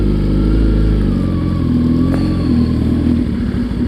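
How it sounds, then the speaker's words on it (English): Sportbike engine rumbling loudly and close as the rider cruises and pulls onto a sidewalk to park, a steady low drone with a slight rise in revs partway through. "I'm going to park on the sidewalk because that's what you can do on a motorcycle."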